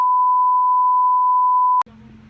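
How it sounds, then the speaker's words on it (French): A phone lets out a single long, steady tone that cuts off abruptly, followed by quiet background noise. "Oh, ça c'était le téléphone."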